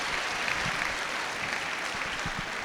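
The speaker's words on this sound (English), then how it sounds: "Let's give Emily one big round of applause." Steady, dense applause from an audience at a girls' sports event session, a continuous wash of many hands clapping at even loudness throughout, with no voices on top.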